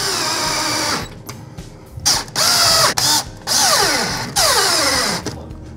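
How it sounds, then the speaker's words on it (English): A power tool drives bolts into a Chamberlain B503 garage door opener bracket in a series of loud whirring bursts with brief pauses between them, close and alone. "then it's just a matter of shooting the bolts into the holes"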